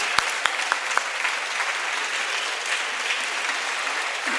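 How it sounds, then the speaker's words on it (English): An audience at a Model United Nations conference applauds students, a few sharp early claps swelling into sustained full-room clapping. "So give them one more big applause."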